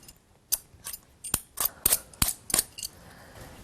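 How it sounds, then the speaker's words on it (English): Apples are peeled by hand with a blade in a kitchen, giving a series of about nine crisp scraping strokes, close and distinct, spaced irregularly with short pauses between. "And next thing is we're going to start peeling the apples."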